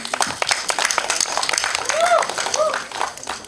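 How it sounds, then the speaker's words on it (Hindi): Audience applause at a film trailer launch event, a dense crowd clapping that swells through the middle and eases off, with whoops and crowd voices mixed in. "जोरदार तालियां हो जाएं"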